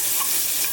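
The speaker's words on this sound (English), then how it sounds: "Then we're going to take some more butter, add that to the skillet" Butter melting in a hot skillet on low heat, with olive oil added for fettuccine Alfredo, gives a steady close hiss and crackle that holds through the short moment alone.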